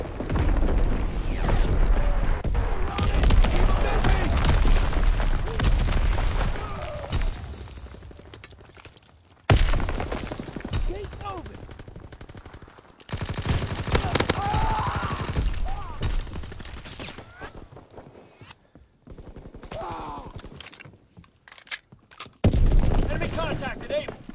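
Repeated booms of division artillery fire and bomb explosions in the Call of Duty WWII video game, mixed with rapid gunfire and game announcer voices, rising and falling in dense bursts with brief pauses.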